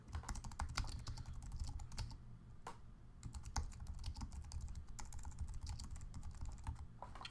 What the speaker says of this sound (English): So I'm going to go ahead and type up a quick description.